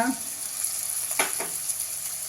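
Chopped onion and green peas fry in a hot pan, giving a close, continuous sizzle with a couple of brief stirring scrapes partway through.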